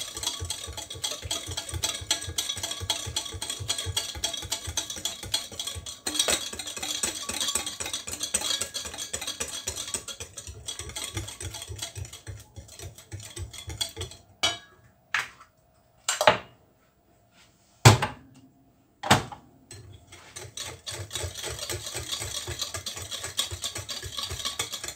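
Eggs, sugar, vanilla and oil are whisked together for basbousa batter, a fast rhythmic clatter of a whisk against the bowl running steadily, broken near the end by a few pauses and louder knocks.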